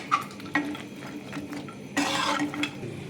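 Fried pakoras are stirred into a light gravy in a pan, making soft scraping and clinking spoon strokes with a gentle sizzle and one longer wet swish, close and without talk.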